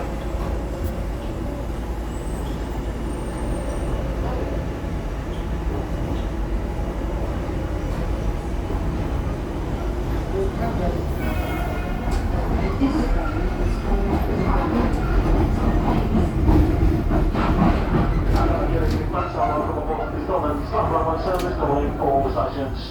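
A Class 321 four-carriage electric train in a train simulator game, running between Canary Wharf and Stratford with a constant low rumble and rising rattle and clatter, loud throughout, while people talk over it.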